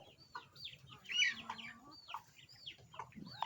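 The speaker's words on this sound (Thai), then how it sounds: "มีทั้งไก่แจ้ พันธุ์ผสม ไก่พื้นเมือง ไก่ดำ" A mixed flock of bantam, mixed-breed, native and black chickens clucks in a pen, with repeated close cackles and calls overlapping over a low background rumble; no one speaks.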